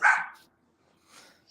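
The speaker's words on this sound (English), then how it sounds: "my neighbor's dog's going nuts." A neighbor's dog barks once sharply at a distance, followed after a pause by a fainter second bark and the start of another, with no talk over it.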